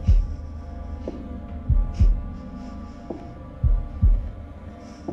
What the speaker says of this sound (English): Press A in time with the heartbeat.